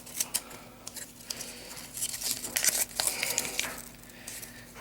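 Scissors snip and crunch through a stapled card pack in irregular bursts, close up, with rustling and crinkling between cuts.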